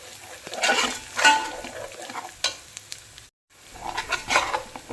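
Keema with coriander powder, garam masala and spices frying in a pan for gongura biryani, heard as uneven sizzling bursts with metal spoon scrapes and clinks, a brief silent gap, then more stirring.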